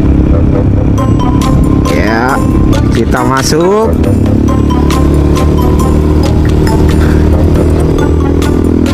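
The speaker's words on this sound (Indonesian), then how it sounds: "seperti inilah rasanya naik motor di jalan tol Malaysia" Motorcycle riding along a Malaysian toll road, its engine and wind roar loud and constant throughout, with a brief voice and some rising tonal sweeps partway through.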